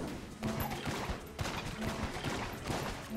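Gunfire bursts in Enter the Gungeon, a quick run of sharp shots from a shotgun-style weapon with rattling impacts, fairly close and steady over a few seconds.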